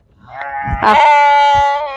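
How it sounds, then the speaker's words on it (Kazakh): A single loud, drawn-out sheep bleat rings out close by, strong and sustained. "Мына жақта мә деп маңырап жүр."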